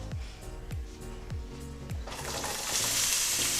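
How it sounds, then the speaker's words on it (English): Onions hit hot oil for Bolognese, setting off a quiet sizzle that swells into a loud, bright frying hiss, with a few low thumps early on as they drop into the pan. "adding in our onions first"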